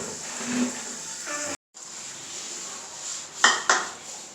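Egg gravy scraped from a pan onto a plate: a few light metal-on-ceramic clinks and scrapes close by, a brief silent gap, then two sharper clatters near the end, with no talking.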